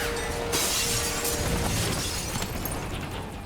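Glass panels along a film-set corridor shatter during a stunt scene, a loud, dense burst of breaking glass and crashing debris that fills the whole stretch without letting up, with no voices.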